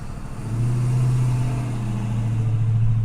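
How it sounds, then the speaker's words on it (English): A loud truck passes close by on an Austin street at night, its engine a deep, steady drone that swells after a moment and holds, a heavy rumble with no talk over it. "But that truck was loud."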